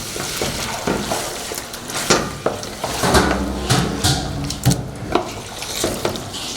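Pork curry sizzles and bubbles steadily in a pot, broken by occasional clinks of a spoon against the metal.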